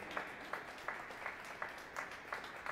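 Faint applause after an hour-long atrium concert, a few distant, rhythmic claps in a thin, quiet room.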